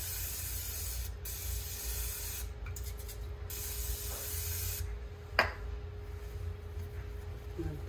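Cooking spray hisses in short bursts as it greases a bowl for hamburger bun dough, close and clear against a quiet room, followed by a small knock.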